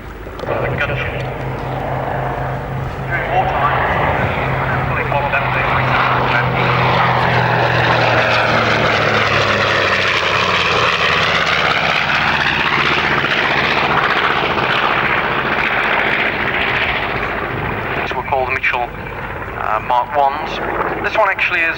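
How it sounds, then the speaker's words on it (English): Steady, loud propeller-aircraft engine drone from two Wright Cyclone engines that swells and shifts in pitch as the plane passes close by at RAF Finningley, with voices faintly underneath. "powered by 2 Wright cyclone engines"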